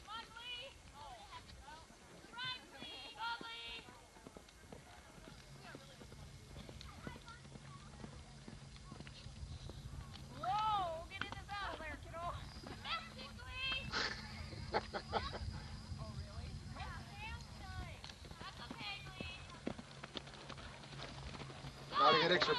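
Horse hooves clip-clop at a 1983 Ghost Canyon camp horse session, a steady rhythmic patter beneath frequent talk, with a faint distant whinny nearby.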